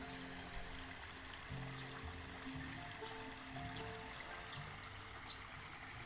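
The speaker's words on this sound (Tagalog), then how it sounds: "Tubig dito." Rainwater streams and trickles through a flooded rice paddy during a typhoon, a steady, moderately distant rushing flow with faint gurgles and no talk.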